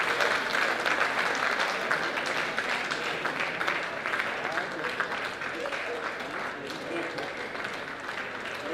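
Sustained audience applause fills a police excellence awards ceremony, dense steady clapping from a large crowd with no break, heard throughout.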